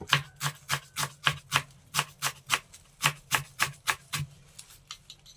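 Fresh mint leaves are chopped with a knife on a board for green biryani, giving about twenty crisp, evenly spaced cuts, steady and fairly loud, with no voices.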